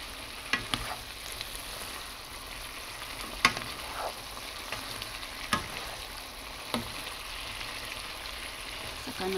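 Cabbage and bean sprouts fry in a pan with a steady broadband sizzle, punctuated by a few sharp stirring clinks and scrapes; no one speaks.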